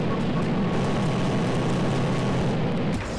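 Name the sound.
plane flying in the video game Ravenfield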